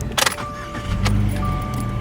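A 2019 Subaru Crosstrek Premium with just under 10,000 miles starts with a key: jangling keys and a clicking crank, then the engine settles into a steady idle with faint electronic tones.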